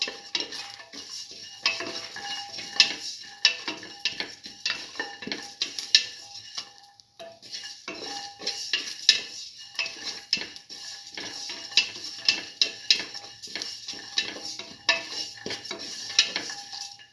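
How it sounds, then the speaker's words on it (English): Black lentil rice being sautéed in a pan, with steady scraping and clinking of a utensil against the metal and a faint sizzle underneath, continuous and close with no talking. "Thoroughly sauteing this."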